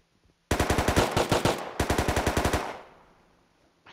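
Automatic gunfire in the video game Rust rips out in two rapid bursts of about a dozen evenly spaced loud shots each, separated by a brief pause, with a fading echoing tail afterward.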